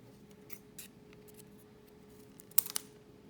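Scissors cut off the ends of paper in a quiet room, a few faint light snips early on, then a sharper cluster of crisp close cuts near the end.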